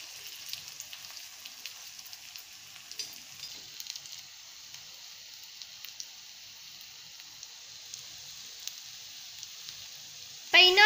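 Onion snacks frying in hot oil, a soft continuous sizzle with scattered crackles throughout, ending in a brief louder clatter.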